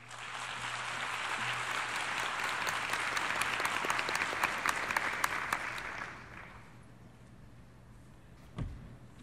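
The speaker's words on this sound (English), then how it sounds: "Why don't we give a big round of applause to Mr." Loud, sustained applause from a large assembly audience at a United Nations youth gathering, dense clapping for about six seconds before fading out, followed by a faint thump near the end.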